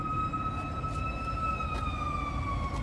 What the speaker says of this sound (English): Get away from that siren.